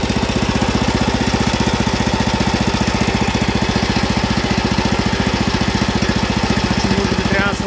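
A Yamaha MX300 walk-behind tractor runs close by while tilling soil, its engine thumping in a fast, even, steady rhythm with a broad mechanical clatter on top.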